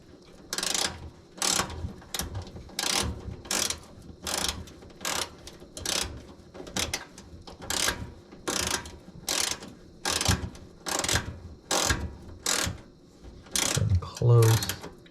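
Hand ratchet tightening the bolt of a rear heat grill vent on a Samsung smart gas range, clicking in steady rapid bursts of about fourteen strokes, close and fairly loud, with no talk.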